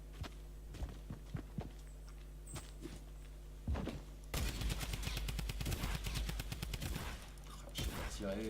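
Video game gunfire: a few scattered single shots early on, then a dense, loud burst of rapid automatic fire, with footsteps and soft thuds mixed in.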